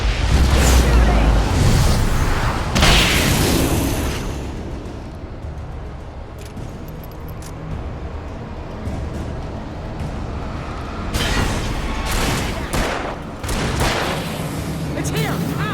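Gunfire in the video game Alan Wake: heavy booming shots and blasts under continual game noise, with bursts near the start and again toward the end, while voices shout over the action.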